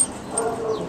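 An 83-pound Labrador Retriever family dog gives a brief, soft whimper, close and alone, lasting about a second.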